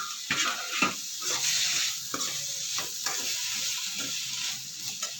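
Tomato fries in a pan for a bottle gourd chutney, with a close, continuous sizzle broken by scraping stirs and light utensil knocks against the pan.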